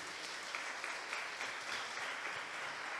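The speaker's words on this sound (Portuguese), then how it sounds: "Vamos aplaudir a Jesus por isso." A church congregation applauding Jesus during a sermon, a faint, distant, continuous patter of many hands clapping, low and even throughout.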